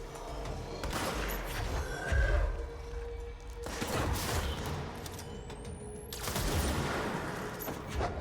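Pierce sidearm firing in the video game Control, a few sharp synthetic shots with bursts of impact noise across several seconds, loud and close with no talk.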